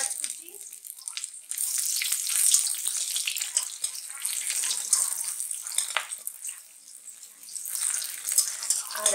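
Bay leaf and chopped onion fry in a pan for ghugni, giving a steady, close, bright hiss of sizzling oil that swells and dips slightly throughout, with no voices heard.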